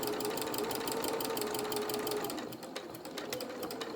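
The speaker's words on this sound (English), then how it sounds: "Take it steady over that little bit of top stitching you've already done" A sewing machine runs continuously while top stitching a hem on small dungarees, a steady close mechanical whirr of rapid needle strokes that slows slightly near the end.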